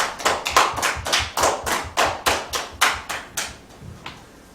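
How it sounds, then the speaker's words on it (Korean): A church congregation claps together in a steady unison rhythm, about a dozen loud, evenly spaced claps that slow and soften before stopping. "우리에게 은혜 주신 하나님께 영광의 박수 올려드리겠습니다."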